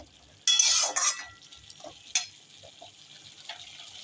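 Salted, chopped bottle gourd, wet with its own released water, is stirred in a pan on the stove: a loud scraping, sizzling burst of stirring, a second stroke, then a quieter sharp clink and soft sizzle continuing alone.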